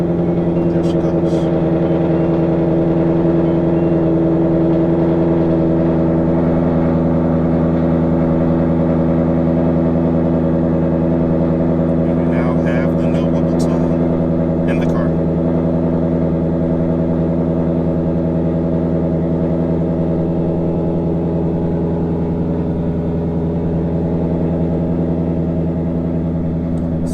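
A loud, deep 2024 Ford Mustang GT engine with a Whipple tune rumbles steadily at idle for the whole stretch, close and constant, with a few faint clicks and rattles over it.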